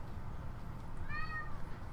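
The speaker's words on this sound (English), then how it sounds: "Is it why my cat's meowing so much?" A pet cat gives a single short meow, faint and somewhat distant, over a steady background hum with no talking.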